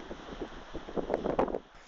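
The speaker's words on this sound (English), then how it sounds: "and the wind's starting to gust." Gusting wind on a cliff top as a storm front approaches, heard as a brief low buffeting rumble that swells and surges against the microphone, fairly faint and uneven.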